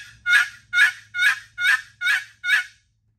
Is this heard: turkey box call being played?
yes